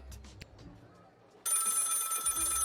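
An in-game telephone rings in the comedic deduction game Lil' Guardsman, a loud sustained electronic ring that cuts in abruptly after a quieter stretch with faint voice sounds and continues steadily to the end.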